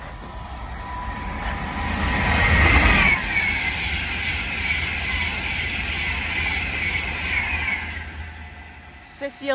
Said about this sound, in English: Passing through now is an Avanti West Coast service to Rugby.